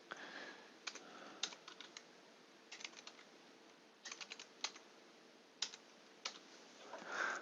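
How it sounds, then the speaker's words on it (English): Someone types a date into an Excel spreadsheet on a computer keyboard, quiet clusters of key taps in short bursts separated by brief pauses, heard alone without talk. "let's type in one last date"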